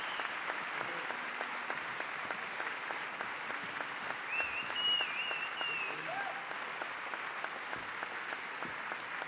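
Applause from a live bluegrass concert crowd rolls on steadily at moderate level, with a few whistles and cheers rising briefly in the middle.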